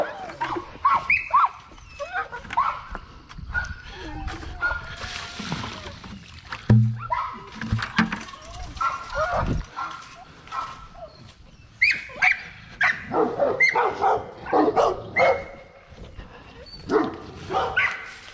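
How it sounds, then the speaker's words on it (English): Dogs growl and bark in short bursts at close range, with water splashing and a person speaking between the outbursts. "Why are you growling at him?"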